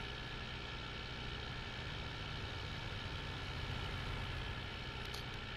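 Tractor engine in the video game Farming Simulator, a steady low rumbling drone that holds an even loudness throughout, with no talk over it.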